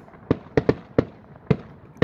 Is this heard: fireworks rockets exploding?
yes